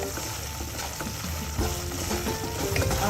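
Semolina (rava) roasting in a pan while being stirred, a steady close sizzle with faint scraping stirs throughout, no talking.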